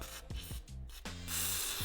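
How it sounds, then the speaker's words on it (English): Quiet bursts of aerosol lubricant hiss in short spurts onto rubber exhaust hangers of a VW T5, then one longer continuous spray, close by and faint. "going to spray the rubber"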